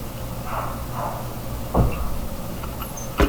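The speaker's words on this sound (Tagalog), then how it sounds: "Naksan niya yung pinto para sa atin." A door in a Roblox horror game slides open with soft, muffled scraping over a low ambient rumble, followed by a couple of sharp thuds.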